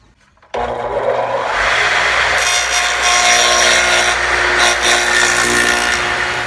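A table saw rips through a wood test piece while building a wedding arch, a loud steady close-up whine and cutting rasp that starts abruptly after a short quiet moment and holds for several seconds.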